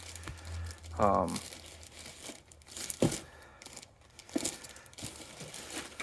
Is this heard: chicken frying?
no